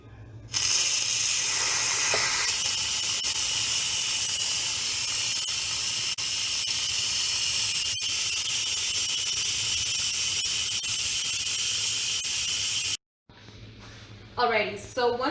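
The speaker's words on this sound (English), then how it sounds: "hot steam is going to come flying up and you will burn yourself. So you just are going to switch it over to the venting mode" Steam hisses loudly and continuously from an Instant Pot's pressure release valve as it vents, a broad, close rushing sound that holds steady for many seconds, then cuts off abruptly, followed by brief faint sounds.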